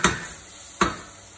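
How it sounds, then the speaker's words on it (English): Mushrooms sear in a hot pan, with two sharp bursts of sizzling about a second apart, each fading into a soft steady hiss, close and clear with no talk. "you can hear the sound of mushrooms searing in, sizzling away"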